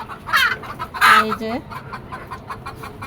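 Chickens cluck in a rooftop poultry farm, a few short bursts rising clearly near the start and middle before fading to quieter background clucking, with a person briefly speaking.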